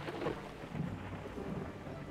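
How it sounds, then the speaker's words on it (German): Thunderstorm in the video game DrillDeal: steady rain hiss with low rolling thunder rumbles, moderately quiet and continuous, no voices. "Schwere Gewitter wüten am Gewitterding."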